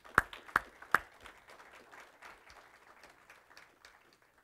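Applause from a symposium audience, opening with three sharp, loud claps before settling into a fainter, steady patter of clapping that tapers off.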